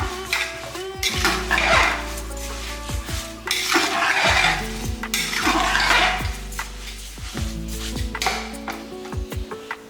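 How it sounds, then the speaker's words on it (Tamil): Soaked raw rice roasting in ghee for temple-style sweet pongal, stirred with a metal spoon in a pan: repeated loud scraping strokes and clanks over a low sizzle, close by. "எல்லாமே நல்லா இந்த நெய்யிலே ஒரு வாட்டி நல்லா வறுத்துக்கலாம்."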